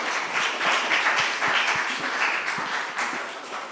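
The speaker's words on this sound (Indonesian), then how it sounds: "Teman-teman silakan berikan tepuk tangan dan semangat untuk Natasha." An audience claps for a student about to give a presentation, a moderately loud, fairly sparse round of applause with individual claps audible throughout.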